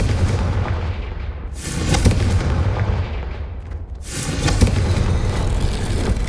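Two heavy booming blasts from the Confringo explosive spell in Hogwarts Legacy roll out over a dense, rumbling game soundscape, each a broad burst followed by a fading roar, loud and close.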